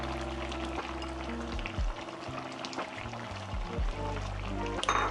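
Cherry eggplant being stirred into Thai green curry with beef in a wok, a continuous sizzling and bubbling with scraping stirring strokes throughout, close and steady.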